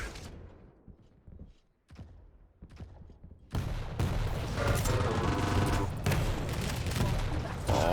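Rocket launcher fire and blasts in a Quake match, a quiet stretch of sharp separate shots giving way to a loud, dense barrage of explosions and gunfire.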